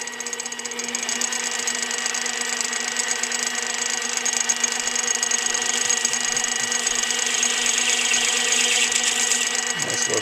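A small lathe tapering a model caster wheel hums steadily with a thin, high cutting whine layered over the motor drone, close and constant for the whole stretch, with no talking.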